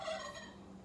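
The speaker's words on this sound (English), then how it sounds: "Let's see what the turkeys sound like." Turkeys gobbling on a farm, a brief faint warbling gobble heard from a distance, fading into quiet background noise.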